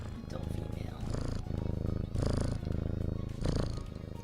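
A pet cat purring very loudly and close, a continuous rhythmic rumble that swells in pulses with each breath, steady throughout with no talk.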